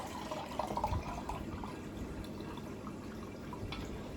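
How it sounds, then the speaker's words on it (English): Water running into a home aquarium tank during filling, a faint steady trickle and splash with a few drips, continuous and fairly quiet. "so I can fill up the rest of my tank."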